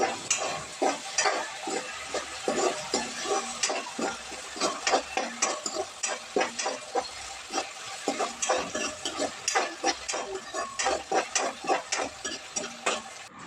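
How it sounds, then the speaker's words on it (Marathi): Tomato sautéing with onion, chilli and curry leaves in a pan, with steady frying under a busy, rhythmic clatter of a spoon stirring and scraping, close and fairly loud throughout. "टोमॅटोला पण चांगलं परतवून घेऊयात आपण"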